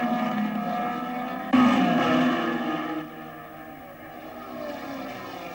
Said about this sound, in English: Jim Clark in the lead as they come down the straight